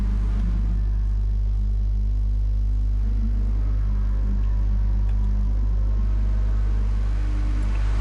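A race car at Spa-Francorchamps in a sim racing league event, climbing Raidillon and passing a Porsche, with a steady, loud, low engine rumble droning for several seconds.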